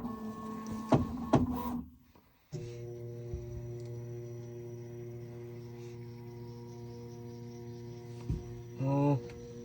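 A Prusa Core One 3D printer runs its input shaper calibration: steady tonal humming and buzzing, a brief drop to near silence, then sustained droning tones ending in a rising warbling sweep.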